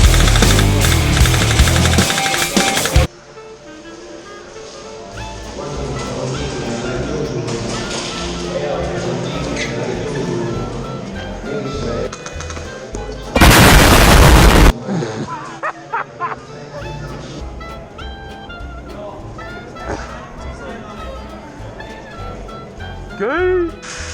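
Airsoft guns fire in an outdoor skirmish, with bursts of rapid shots and thuds ringing out over constant background noise and a couple of very loud close blasts, while players call out to each other.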